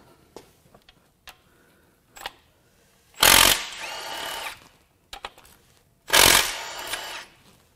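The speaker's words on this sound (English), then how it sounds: "Now we have three tensioners to unbolt, and I will take no chances." Power tool loosening tensioner bolts on a Cadillac Northstar L37 4.6L V8 engine: two loud, close bursts of a few seconds each, separated by quiet pauses with a few faint clicks and knocks.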